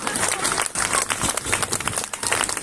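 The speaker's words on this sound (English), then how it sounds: "Clap, you bastards. Come on." A street comedy show audience claps in a continuous, crackling burst of applause, dense and uneven, heard outdoors in Dublin.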